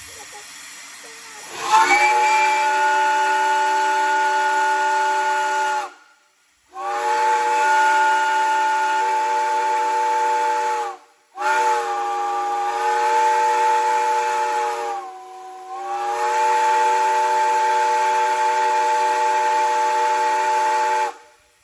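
A Southern Railway steam whistle at a railroad festival sounds four long, loud, harmonically rich blasts, each several seconds long and separated by brief gaps, with a hiss of steam around them.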